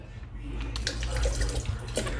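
Juice being poured into a vodka punch, a continuous close splashing pour of liquid running for a couple of seconds with some brighter splashes.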